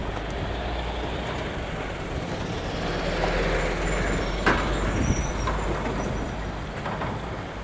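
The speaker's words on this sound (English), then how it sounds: "it's a pretty busy truck stop" Heavy trucks idle and rumble at the busy Colsterworth truck stop, a continuous low engine drone that swells midway, with a couple of sharp clanks and a hiss near the end.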